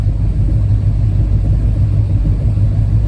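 A hot rod's engine idles with a deep, steady low rumble, loud and close, holding an even throb with no talk over it during a long road cruise.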